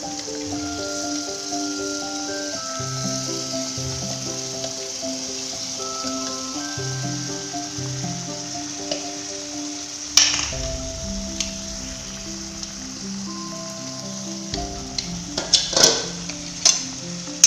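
Two medium tomatoes frying in a pan for egg curry, a continuous sizzle under a steady tonal background, with a few sharp utensil scrapes and clinks against the pan near the end.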